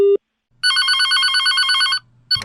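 A telephone rings for an incoming call: one bright electronic trill of rapidly warbling tones lasting over a second, loud and close, after a short beep and silence.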